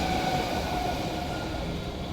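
A subway train rumbles past, a steady loud broadband roar with a faint high whine running through it, continuous throughout with no voices.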